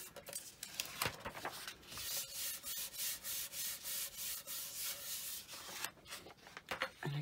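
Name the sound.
burnishing a satin rippled metal pendant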